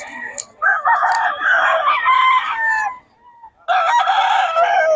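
A blue stag rooster at a gamefowl farm in Bocaue crows twice, loud and close: one long drawn-out call, a short pause, then a second crow starting.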